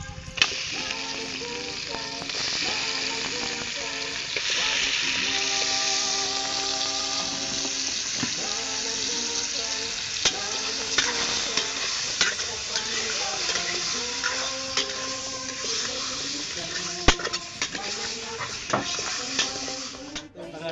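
Pork meat fries in a pot for a pork and bottle gourd soup, a steady sizzle running the whole time beneath a person speaking.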